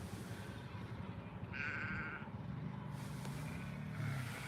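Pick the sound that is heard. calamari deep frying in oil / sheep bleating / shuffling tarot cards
sheep bleating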